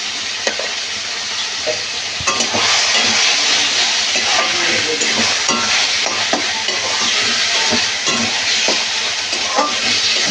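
Tomatoes with salt and ginger cooking in a pan for a fish kalia, producing a loud, continuous sizzle and hiss with scattered stirring scrapes throughout, close up.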